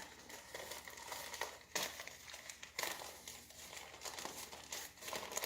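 Paper of a handmade planting vessel crinkles and crumples as its top edge is folded in, soft close rustling in several bursts with brief louder crackles, no voices.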